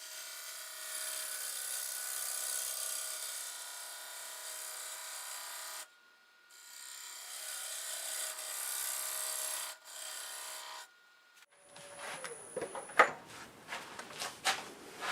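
A lathe turns a wooden bowl with a continuous close whir that stops twice briefly, then gives way to scattered knocks and clatter near the end.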